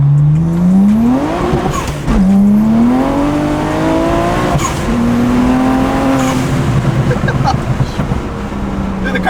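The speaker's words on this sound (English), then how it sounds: "We're gonna do a first gear pull" BMW 335i with N54 engine and antilag making a hard first-gear pull on 295 R888 tires, loud rising engine note with shifts and tire skating, close and continuous.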